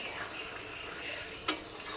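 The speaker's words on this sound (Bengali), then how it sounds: "বেগুনটা দিয়ে দিলাম, দিয়ে একটু কোনো রকম কষাবো" Eggplant being stir-fried with spices in a pan, a quiet close scraping and soft sizzle with one sharp spatula clank against the metal near the end.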